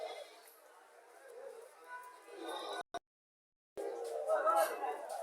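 Haryana breed goats at a village livestock market give a few faint, wavering bleats among crowd noise, with someone talking nearby and a brief cut to silence midway.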